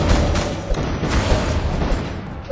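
Loud, dense booming bomb explosion noise with crackling bursts from Kingdom Rush Vengeance, sustained and chaotic like game-style blasts and gunfire.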